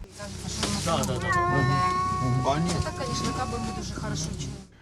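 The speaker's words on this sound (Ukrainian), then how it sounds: "про кота, який періодично подає голос із коробки" A cat meows repeatedly from inside a box during a wartime evacuation, its loud, drawn-out cries close and continuous for several seconds with voices talking around it.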